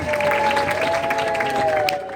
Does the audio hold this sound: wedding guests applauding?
yes